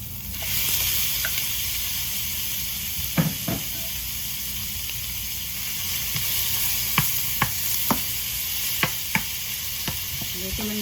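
Ground meat fries in a pan with a steady, close hiss of sizzling, broken by occasional sharp clicks and scrapes of a utensil stirring.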